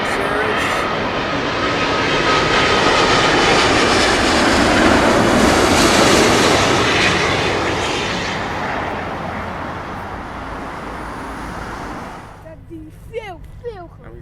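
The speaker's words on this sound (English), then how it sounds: "Virgin Atlantic's A350 from JFK" A Virgin Atlantic Airbus A350-1000 jet passes at London Heathrow, a loud broadband engine roar that swells, holds, then fades away, with a voice speaking faintly near the end.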